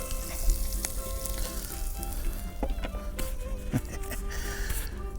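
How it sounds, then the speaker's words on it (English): Chorizo frying on a discada at night gives a loud, crackling sizzle with scraping and metallic clanks from stirring on the broad steel disc. "And we're gonna put our chorizo in there."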